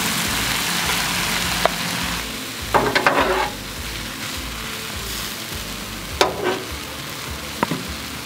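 Couscous frying on a hot Blackstone flat-top griddle, with lemons also toasting, gives a steady close sizzle throughout, broken by a few brief bursts of scraping and crackle.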